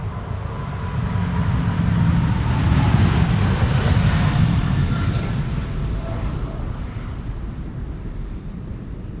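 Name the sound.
KLM Boeing 777-200 departing to Rio de Janeiro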